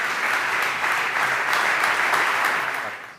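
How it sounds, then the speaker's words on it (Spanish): An audience at a Basque gastronomy meeting gives a short burst of steady, moderately loud applause that tapers off at the end. "Un aplauso para estos 3 relatos humanos."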